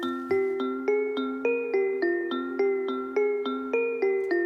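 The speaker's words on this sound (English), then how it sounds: "Let's say you have like a simple 4-bar melody and it sounds like this." Simple four-bar synth melody played on the Omnisphere In Memoriam 2 patch, bell-like tones repeating in an even rhythm of roughly nine struck notes, clear and close with no talk.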